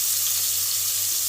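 Onion and ginger paste with sliced big onions fries in a pan, giving a steady, close hiss of sizzling oil that runs unbroken and fairly quiet, with no talk over it.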